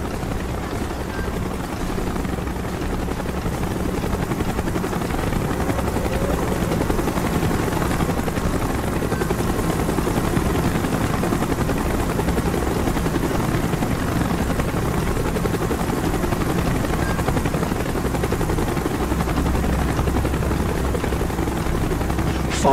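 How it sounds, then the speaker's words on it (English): A helicopter in the Call of Duty: Black Ops video game approaching, its rotor drone building into a loud, steady, continuous thrum that persists throughout. "Chopper's inbound."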